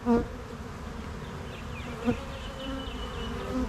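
Honeybees flying around a hive, a continuous close buzzing drone with louder passes as individual bees zip near, alone without speech.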